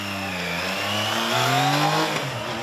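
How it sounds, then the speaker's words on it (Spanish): Triumph Trident 660 three-cylinder motorcycle engine revving up, harmonics climbing steadily as it pulls hard under load, loud and continuous with no talk. "El motor sube de vueltas y empuja con esa alegría"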